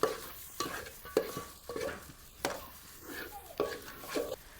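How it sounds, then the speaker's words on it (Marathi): Repeated scraping strokes of a spoon stirring in a pan, roughly every second, over a low sizzle of spices frying in tempering oil for a dal curry on a wood-fired stove. "आपण आमटीची पहिल्यांदा फोडणी टाकलेली ते ह्या मसाल्यामध्ये फोडणी टाकून घेऊया"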